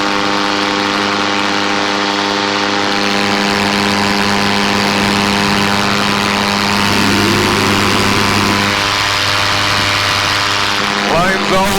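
A paramotor engine drones loud and steady through takeoff, a constant buzzing propeller tone with steady harmonics and rushing wind, the pitch shifting slightly as power changes near the end.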